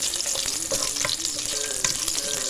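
Spinach stirred while frying in ghee in a pan, with steady dense sizzling and soft scraping of the spoon, close and continuous throughout.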